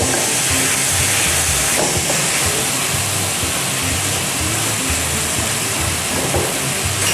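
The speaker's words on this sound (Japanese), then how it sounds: "一緒に炒める。" Pork stir-frying in a pan with gochujang sauce and vegetables for Korean jeyuk bokkeum, a loud, steady, dense sizzle running without a break, with faint scraping of stirring now and then.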